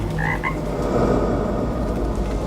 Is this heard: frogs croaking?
yes